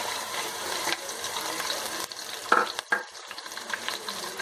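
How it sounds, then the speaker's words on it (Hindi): Coarsely crushed ginger and garlic fry with garam masala in a pan, with a steady close sizzle, stirring scrapes and a few sharp spoon knocks. "और इसको अच्छी तरह से भून लेंगे जब तक इसमें से अच्छी सी खुशबू ना आने लगे।"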